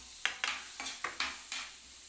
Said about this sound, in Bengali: গাজরটা আগে দিয়ে দিচ্ছি